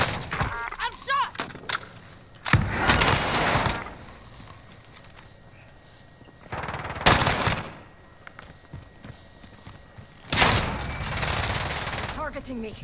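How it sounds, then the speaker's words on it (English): Gunfire in Call of Duty Modern Warfare, loud bursts of automatic fire in several separate volleys with quieter gaps between, alongside game sounds and occasional talk. "Trying to shoot me."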